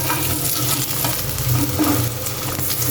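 Eggplant slices frying in a pan, a loud, steady, crackling sizzle heard up close with light stirring movements and no voices.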